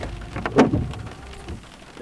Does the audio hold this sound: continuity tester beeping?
no